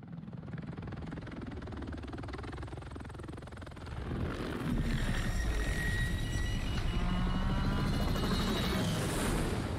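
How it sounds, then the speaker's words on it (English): A helicopter in the Modern Warfare 3 campaign, its rotor chop and engine whine droning steadily, swelling louder midway, with faint voices and radio-like chatter layered over it. "Don't make me fly this helicopter."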